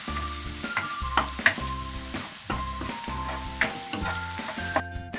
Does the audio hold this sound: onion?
yes